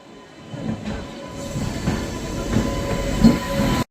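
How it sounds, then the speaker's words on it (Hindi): A new Vande Bharat sleeper express train approaches on the rails, a rising rumble with a steady hiss and faint clatter growing louder over a few seconds, heard from another train. "सामने से आ रही है अपनी वंदे स्लीपर भारत, जिसका कल ही उद्घाटन किया गया था"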